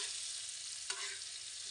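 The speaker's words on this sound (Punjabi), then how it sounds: "ਇਹਨੂੰ 1-2 ਮਿੰਟ ਲਈ ਭੁੰਨਾਂਗੇ ਜੀ, ਜਿੰਨੀ ਦੇਰ ਤੱਕ ਪਿਆਜ਼ਾਂ ਦਾ ਪਾਣੀ ਜਾਂ ਨਹੀਂ ਮੱਚ ਜਾਂਦਾ ਉੱਨੀ ਦੇਰ ਤੱਕ ਆਪਾਂ ਚਟਨੀ ਨੂੰ ਭੁੰਨਾਂਗੇ" Onion chutney sizzles steadily as it roasts in a pan, giving a quiet, continuous hiss with one brief scrape partway through, and no voices.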